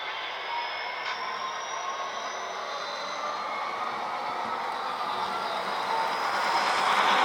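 An Athearn SDP45 model locomotive with Tsunami sound runs at its highest notch, a steady, loud diesel roar with a hissing, buzzy edge that swells a little toward the end.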